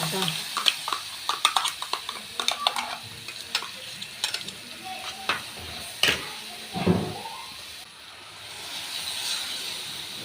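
Ground coconut paste with turmeric and chilli powder sizzles in a pan for egg curry, a steady frying hiss broken by stirring clatters and scrapes, with a voice speaking over it at times.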